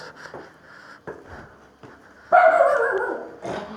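A dog barks loudly up close in the second half, after a quieter stretch of faint scattered noises.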